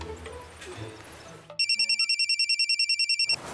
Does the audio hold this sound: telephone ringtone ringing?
yes